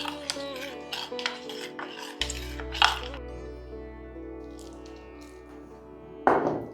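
A spoon stirs cholafali dough mixture with oil in a bowl, giving scattered clinks and taps against the bowl and a few louder knocks near the end, with no talk.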